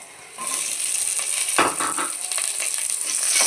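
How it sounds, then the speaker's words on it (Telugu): Small pieces of bottle gourd fry in a pan of hot oil, a steady loud sizzle that stays close and continuous throughout, broken by a brief rustle of stirring. "అందులో కొంచెం ఫ్రై చేద్దాం సొరకాయ బాగా కొంచెం ఫ్రై అయిన తర్వాత"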